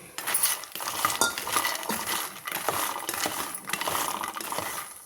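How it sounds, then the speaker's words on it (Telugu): Phool makhana (fox nuts) fry in a spoonful of oil in a pan over a slow flame, giving a light, continuous rattling and clattering as they are stirred and tossed against the metal. "ఒక కప్పు పూల్ మక్కన ఇవి వేసుకొని స్లో ఫ్లేమ్లోనే ఫ్రై చేసుకుందాం అండి"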